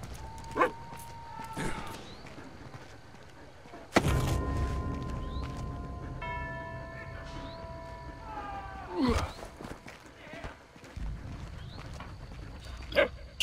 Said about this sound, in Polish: Piesku, ty mi się przydasz.